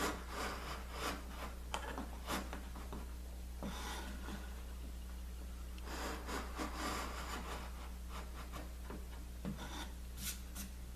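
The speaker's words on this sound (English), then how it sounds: "with this nice sharp knife, I'm able to cut those fibers nice and clean." A sharp knife slicing across wood fibres to make a marking cut, heard as soft repeated scraping strokes in bursts over a steady low hum, quiet and close.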